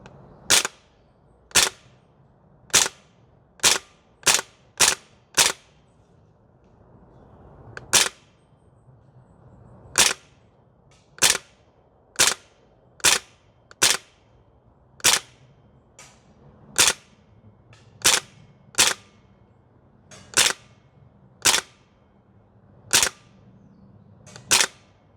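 A Maruyama ISO556 airsoft rifle fires single shots on an outdoor range, about twenty sharp snapping cracks spaced irregularly, close and distinct over quiet background.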